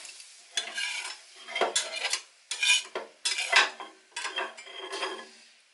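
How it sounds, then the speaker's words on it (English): A utensil scrapes cooked jerk prawns and their juices across a pan in bursts of metallic scraping and clatter with soft sizzling, alternating with brief pauses, close and fairly loud. "So I'm just now scraping them off here."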